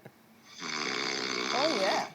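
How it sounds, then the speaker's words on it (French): A man snoring with one long, loud, regular rasping inhale that builds after a quiet start and holds steady, close by with no talk over it. "écoutez un peu le ronflement de mon fiancé"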